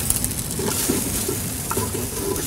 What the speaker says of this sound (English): Right, now, let's give that a good stir.